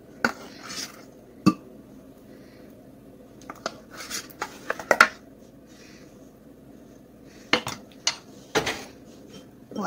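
Butternut squash soup served into a bowl in a home kitchen: sparse clinks and taps of a utensil against a pot and bowl, with quiet gaps and soft scraping in between.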